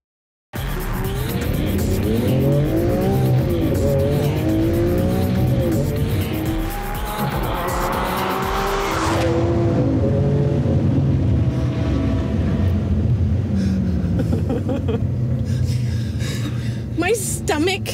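Lamborghini Aventador, an exotic Italian sports car, roars loudly up and down through its gears with screeching tire squeal, sustained and close throughout, with a voice speaking over the engine noise.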